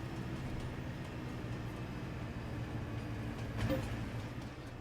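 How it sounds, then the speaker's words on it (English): A train rumbling along in the farming game Farming Simulator 22, a steady low drone of engine and wheels with a faint swell near the end. "We get to drive our train."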